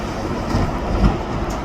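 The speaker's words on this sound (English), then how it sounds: "that's gonna be a decent train going out" A big freight train pulled by four locomotives rumbles past as it heads out, a steady low roar of rolling wagons close by, with a slight swell near the middle and no voices.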